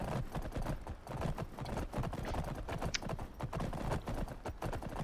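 Hooves of a newly bought horse clip-clop steadily in Skyrim, a brisk continuous rhythm of footfalls heard close and alone.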